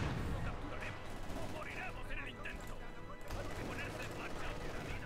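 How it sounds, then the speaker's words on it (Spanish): Machine gun fire in the Company of Heroes 2 strategy game, rapid rattling bursts mixed with crashes and battle din, heard under steady voices talking. "La ametralladora, Sullivan, otra vez."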